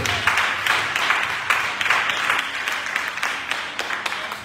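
A church congregation applauding in worship, steady dense clapping from many hands filling the room, loud and sustained with a few faint voices underneath.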